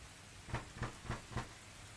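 Rain patters steadily while four evenly spaced, soft low thuds land about a quarter second apart over the wash of falling water.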